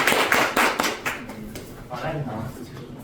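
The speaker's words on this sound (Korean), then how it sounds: "박수로 모시겠습니다." An audience at a Gangwon regional briefing on solar-income villages claps to welcome a speaker; a short burst of separate claps fades as voices take over.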